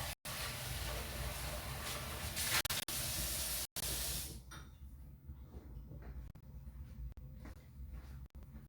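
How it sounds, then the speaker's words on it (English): Tap water runs hard into a pot being rinsed in a kitchen sink, a loud steady hissing spray that stops partway, leaving quieter clinks and knocks of the pot being handled. "let's rinse it."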